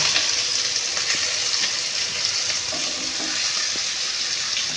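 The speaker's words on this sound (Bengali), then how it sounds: "পেঁয়াজটা লাল লাল করে ভেজে নেব।" Chopped onion fries in a pan with cumin seeds. It gives a steady, close, even sizzle that runs unbroken with no one talking.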